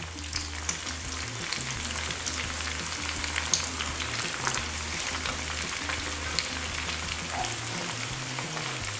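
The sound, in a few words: cheese-filled rice balls frying in a pan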